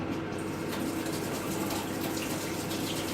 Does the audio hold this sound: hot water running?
yes